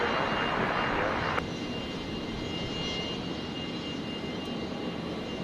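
A Fokker 100 jet operated for Virgin at Brisbane Airport gives off a dense, steady engine roar; a brighter rushing layer at the start cuts off abruptly, leaving a continuous jet drone.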